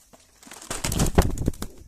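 A short, close burst of rustling and soft fluttering sounds, like pigeons shuffling and flapping nearby, with a few low murmurs.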